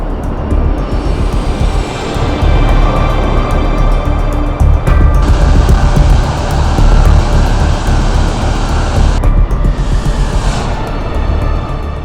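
A jet airliner climbs away during a go-around with flaps set to 15, its engines roaring loud and steady at full power, the rumble swelling and shifting in pitch as it passes close by.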